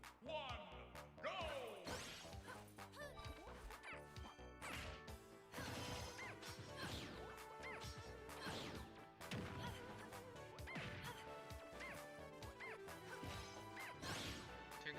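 Repeated up smash attacks from Tinkerbell against Hopplepup in a Super Smash Bros amiibo tournament match, a steady run of loud game hits and crashes layered over busy music and effects, with no talk.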